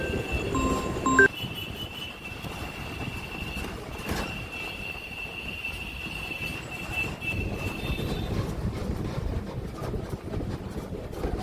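A local commuter train near Howrah and Liluah runs with a low, steady rumble and some wind noise. The sound is fairly quiet throughout, and no one speaks.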